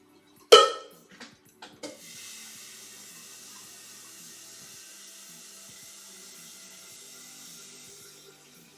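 Kitchen tap running to fill water for boiling: a few sharp clunks and knocks of handling at first, then a steady, even stream of running water that continues for several seconds, close by.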